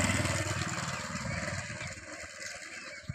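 Motorcycle engines drone along a hillside road on a morning walk in Guwahati, a mid-pitched motor sound passing nearby and fading slightly over a few seconds.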